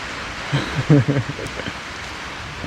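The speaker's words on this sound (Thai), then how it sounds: "บรรยากาศทางกลางสายฝน" Steady rain hisses in the background at a fishing pond while someone speaks briefly over it.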